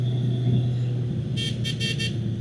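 A motorcycle horn from a Kawasaki Vulcan 750, fitted on a ZL900, sounds in a few short, bright honks near the end, over a steady low engine rumble close by.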